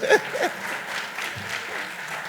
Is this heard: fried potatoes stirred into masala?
no